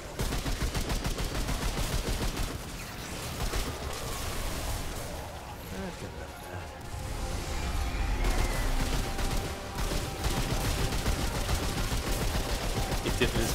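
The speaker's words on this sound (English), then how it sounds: "There's explosions and stuff going on everywhere." Rapid gunfire and explosions rattle from the Remnant 2 video game, with dense bursts of automatic shots and booming blasts packed together loudly almost without pause, and a brief lull near the middle.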